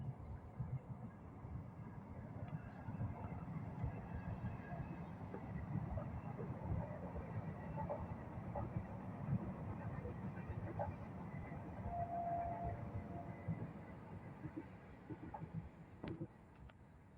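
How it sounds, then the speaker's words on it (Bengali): A train passes in front of a house in Barasat, giving a steady low rumble that lasts the whole stretch at moderate distance, with faint rattling and no talk over it. "এই আমাদের বাড়ির সামনে থেকে ট্রেন যাচ্ছে, দেখুন।"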